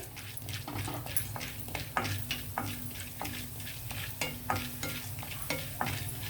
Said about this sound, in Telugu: ఇప్పుడు మనం పచ్చిశనగపప్పు వేద్దాం అదే ఆయిల్లో.